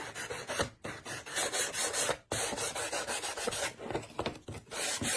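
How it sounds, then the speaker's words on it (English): Close, steady rasping of sandpaper rubbing along the edges of a small craft bunny, in repeated back-and-forth strokes with brief pauses, fairly quiet and with no voices. "Okay, sand off your edges."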